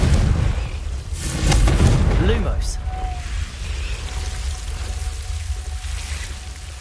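A Confringo fire spell bursts in Hogwarts Legacy inside a dark herbology corridor choked with Devil's Snare, a loud low boom with a crackling, rumbling tail that fades into a steady hum; a voice is present around the blast.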